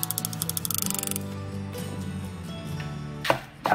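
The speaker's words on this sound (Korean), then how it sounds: "이쪽은 쓰니까 양쪽 꼬다리는 잘라버리세요" A knife chops a cucumber on a board in a quick run of about a dozen even, crisp taps, then falls quiet, and a couple of louder knocks follow at the end.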